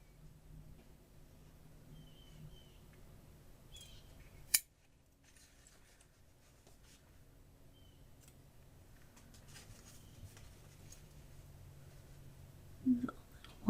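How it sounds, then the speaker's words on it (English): Scissors trimming handmade paper ephemera for a journal make quiet, close snips, with a sharp cut near the middle and another toward the end amid soft paper handling. "I'm going to trim it just a little bit."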